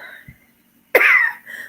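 A person imitates a cough, giving one sharp, forceful, close cough-like burst that trails off into a voiced sound after a brief silence.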